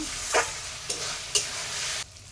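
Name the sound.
chicken with turmeric and chili powder being sautéed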